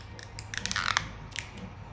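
Tape wrapped around braided PTFE hose being cut through, with a close cluster of crisp snipping and crunching bursts that fade, followed by one more short cut.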